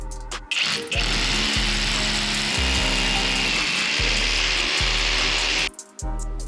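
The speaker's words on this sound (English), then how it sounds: "get ready to drill the other pipe through the wall" A power drill grinds steadily through a wall for several seconds to pass a radiator pipe through, with brief stutters, starting and stopping abruptly, loud and close.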